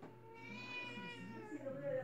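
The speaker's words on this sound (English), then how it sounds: "You guys hear that? That's my cat." A pet cat meows close by in a quiet indoor room, a drawn-out tonal cry with a brief higher call near the end, heard alone without talk.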